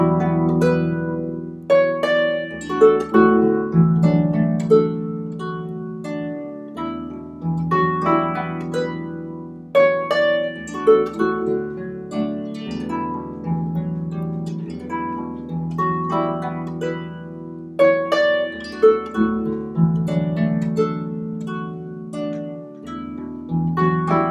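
Celtic harp playing The Arran Boat Song with open chords, a continuous run of plucked notes and ringing chords in a steady, flowing rhythm, close and clear with no talking.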